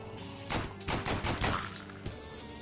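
Bursts of rapid gunfire from a stationary zombie shooter video game, several volleys of fast shots close together over about two seconds, loud and alone.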